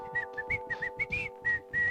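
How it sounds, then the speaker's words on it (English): A person whistles a lively tune alone, with short, clear, melodic notes in quick succession and no talking. "It's time to bring the whistling back."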